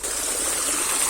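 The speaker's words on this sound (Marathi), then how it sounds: "हे धरण बघा, धबधब्याचं पाणी." Waterfall water rushing over a small dam near farm fields, a loud, steady, close roar of flowing and gushing water filling the whole moment without pause.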